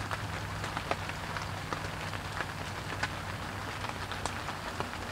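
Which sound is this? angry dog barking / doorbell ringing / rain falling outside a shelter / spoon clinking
rain falling outside a shelter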